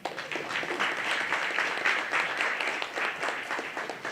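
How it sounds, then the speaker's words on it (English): Town hall audience in Memphis giving a sustained round of applause, a dense wash of many hands clapping at steady volume for several seconds, with no voices above it. "Let's give Mario a round of applause."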